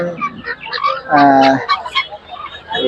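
Chickens at the Tongi bird market in Bangladesh give a loud, brief honking squawk in the middle, surrounded by quieter clucks and crowd noise.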